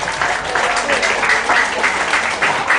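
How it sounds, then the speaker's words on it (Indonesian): An audience claps for three contestants at a creative-business seminar and talk show. The applause is steady and sustained, with many hands clapping at once for the whole stretch. "Tepuk tangan untuk ketiga peserta kita."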